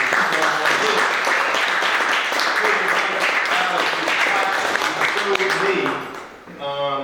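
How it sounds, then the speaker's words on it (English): A crowd at a STEM center fundraiser reception applauds loudly and steadily for several seconds, with voices mixed in, before the clapping fades out. "let's give Brother Hank a round of applause"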